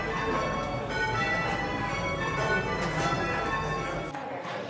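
Church bells ring a quarter peal of call changes, a dense, continuous wash of overlapping tolls heard steadily throughout at fairly strong level.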